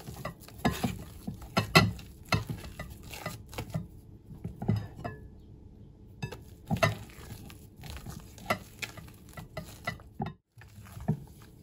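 Egg whites are folded by hand into a curd mixture for an apricot pie, giving soft, irregular patting and squelching strokes of a spatula in a bowl, quiet and close, with no talking.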